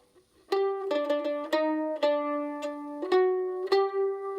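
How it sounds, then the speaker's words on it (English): A mandolin taps out the familiar seven-note shave-and-a-haircut knock rhythm, bright and plucked: a quick run of notes, a pause, then two firm closing notes. "Shave and a Haircut, 2 Bits is a very common rhythmical pattern"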